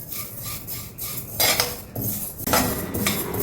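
Flax seeds are dry-roasted on low heat and stirred in a pan, producing scraping, rasping strokes of a utensil against metal with light rattling of seeds, close and fairly loud, in uneven bursts.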